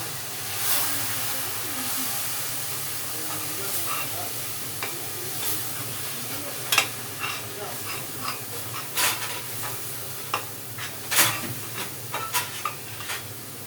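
Onions fry in oil in a pan for a South Indian fish curry with chili powder and turmeric, giving a steady close hiss and sizzle broken by scattered spoon scrapes and small pops.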